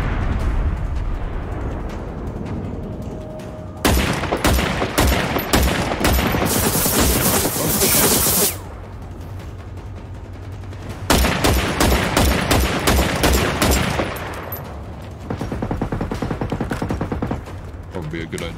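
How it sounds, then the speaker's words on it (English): Rockets launched by a hostile robot in Generation Zero, heard as loud bursts of rapid, crackling gunfire-like blasts in several long volleys separated by short lulls. "Wait for him to launch one of those rockets."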